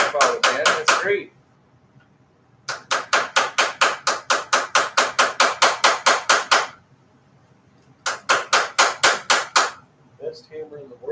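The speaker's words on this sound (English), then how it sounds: "Best hammer in the world, I guess." A hammer strikes hard in rapid, evenly spaced blows, close and loud, arriving in three long bursts separated by silent gaps, with some brief talk near the start and end.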